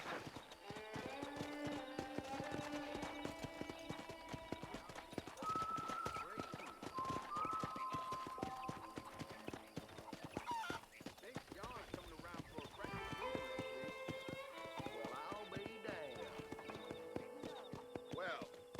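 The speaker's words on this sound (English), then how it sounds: "I picked out a fine horse for you." Horse hooves in the Red Dead Redemption video game clop steadily at a walking pace, sitting under a continuous orchestral score through most of the stretch.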